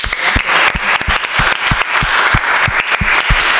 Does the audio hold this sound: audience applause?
yes